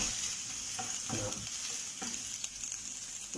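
Spring onion sautéing in a pan over low heat gives a soft steady sizzle with a few scraping stirs, close and quiet, no talk.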